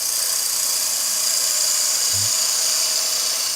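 A woodturning lathe spins steadily with a constant high whine as a tool cuts a foot with a small dovetail for a chuck, close and loud with no pauses.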